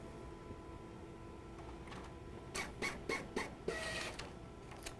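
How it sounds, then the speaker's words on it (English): Epson C6000 label printer printing a label: low mechanical hum, then a quick run of five or six sharp rhythmic feed-and-print bursts, close and moderately loud. "let's print a beautiful label with our brand new installed printer."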